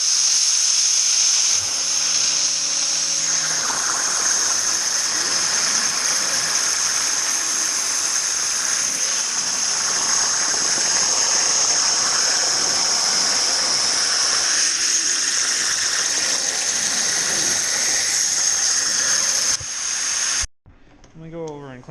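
A CNC plasma torch cuts a steel transmission adapter plate for a Sherman tank with a loud, steady high-pitched hiss lasting about twenty seconds, then cuts off abruptly, followed by brief clatter.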